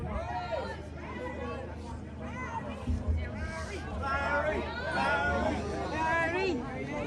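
Dense crowd chatter fills an outdoor anti-immigration protest rally in Waterford, Ireland, a steady overlapping babble of many voices at moderate distance, with individual speakers rising out of the hubbub now and then.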